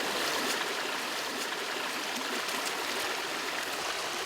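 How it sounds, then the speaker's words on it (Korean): Fresh chives washed by hand in a flowing mountain stream, the water rushing and gurgling steadily and close throughout, with no voices. "흘러가는 물에 딱 씻으니까"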